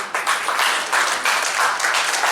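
An audience applauds Ghalib's team at a university Baitbazi verse-contest prize announcement, a loud burst of many hands clapping steadily, briefly rising and falling.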